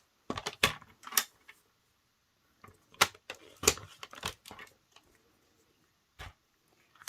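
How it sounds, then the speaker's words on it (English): A paper trimmer slices cardstock for a panoramic panel card, producing sharp, close clicks and short scraping strokes in a few quick bursts, separated by quiet pauses. "So the cardstock, we're going to cut off 1 inch."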